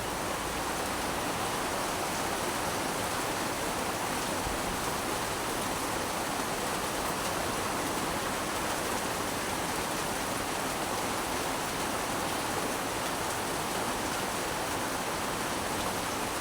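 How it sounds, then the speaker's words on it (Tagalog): Heavy rain pours steadily on a small fishing boat at sea during a storm, a dense, even hiss with no clear pauses across the whole stretch. "Medyo malakas yung ulan dyan mga idol kung nakikita nyo."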